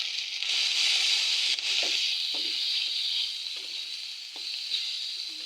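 Chicken masala with cumin powder sizzling in a frying pan while being stirred, a dense close hiss punctuated by several light scrapes and taps of the spoon.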